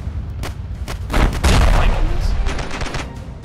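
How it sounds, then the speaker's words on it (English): Heavy machine gun fire in the Ravenfield video game: dense, loud bursts of rapid shots mixed with explosions and battlefield rumble, swelling in the middle and staying heavy to the end. "You hear that? That's a heavy MG."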